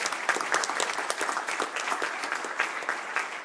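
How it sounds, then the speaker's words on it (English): Sustained audience applause at a national lead policy summit, a dense, even wash of many hands clapping with no voices over it. "Let's give Maya a round of applause for her great work."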